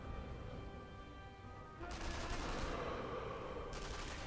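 Video game gunfire and bullet impacts in Sniper Elite V2 come as a dense, distant rattle of shots and cracks that swell after a quieter start, with no voices.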